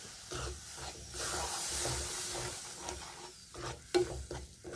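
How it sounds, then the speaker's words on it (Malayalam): Coconut milk being stirred into a fried mixture in a pan, with a steady sizzling hiss and soft scraping stir strokes throughout, plus a sharper clink near the end. "തയ്യാറാക്കി വെച്ചിരിക്കുന്ന തേങ്ങാപ്പാലുണ്ടല്ലോ നമുക്ക് ഇവത്തിലേക്ക് കൊതിച്ചു കൊടുത്ത് നമുക്ക് നല്ലതായിട്ട് ഇളക്കാം"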